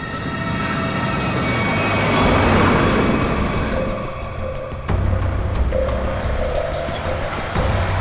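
A car drives along with a steady rumbling road and engine noise, rising slightly in the middle, with a few sharp knocks toward the end.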